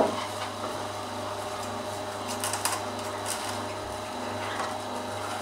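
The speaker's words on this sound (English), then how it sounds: "And you can just hear the juicer working away." Electric juicer grinding leafy kale, a steady mechanical hum with a low droning tone and faint rhythmic whirring, broken by a few brief crunchy bursts as the leaves are pulled in, continuous and close.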